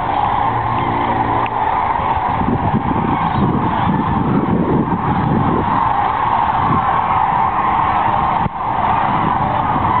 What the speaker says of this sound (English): there's geese, ducks, whatever they are